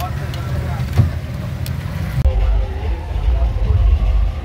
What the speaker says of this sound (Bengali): এখন এই যে ফেরিঘাটে ঘাটে লাগছে